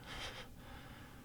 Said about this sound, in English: My cat is snoring